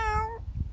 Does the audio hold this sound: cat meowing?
yes